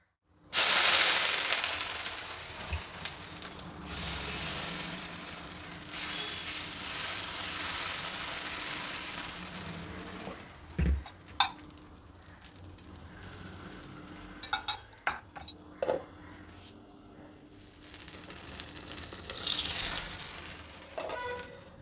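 A puffed rice dosa, made from three ingredients, cooks on a hot pan with a steady low sizzle, broken by a few sharp scraping and clinking sounds of a spatula against the pan.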